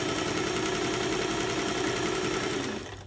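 A sewing machine stitches quilting channels through fabric, running as a continuous close, loud mechanical whir with a steady rapid needle rhythm before slowing and winding down at the end.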